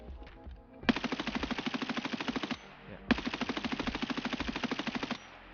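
Two sustained bursts of rapid automatic fire from an M4A1 rifle in the shooter game Escape from Tarkov, each lasting under two seconds with a steady rattling rhythm and a short pause between them, loud and without talk.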